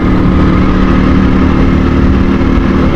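A motorcycle engine drones loud and steady during a ride on a mountain road, a constant close hum without speech.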